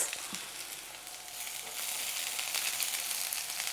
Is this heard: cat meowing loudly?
no